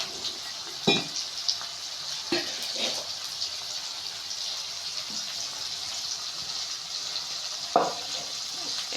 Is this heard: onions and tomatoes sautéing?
yes